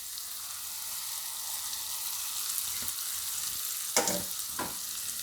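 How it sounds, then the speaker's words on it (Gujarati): Soaked fenugreek seeds go into green chillies frying in a pan for Rajasthani mirchi kuta, producing a steady, moderate sizzle with a couple of sharp clatters and splashes near the end. "તો હવે આપણે આમાં મેથી નાખી દેવું, પલાળેલી."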